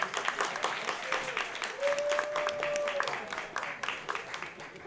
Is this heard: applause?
yes